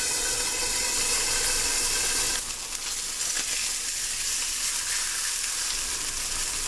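A thin steak hits a hot pan and sizzles loudly and steadily; the sizzle shifts and thins partway through as the meat settles, then crackles on alone without any talk.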